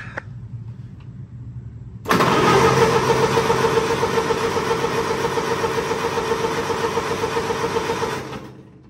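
A 1947 Cockshutt C30 tractor engine cranks and catches after a quiet pause, then runs loud and steady close by for several seconds before dropping off.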